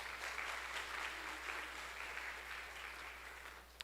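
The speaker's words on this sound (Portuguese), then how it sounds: "Então dê um aplauso ao Senhor por isso." A church congregation claps to praise the Lord during a sermon, a short wash of steady applause heard at a modest distance and quite faint, fading slightly near the end.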